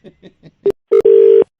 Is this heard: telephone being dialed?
yes